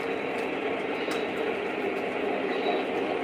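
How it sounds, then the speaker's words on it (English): A Conrail freight train hauled by three engines rolls past, a steady broadband rumble and rail roar holding at a constant level throughout with no pauses, faint high squeals drifting over the top. "that's a good sized train right there"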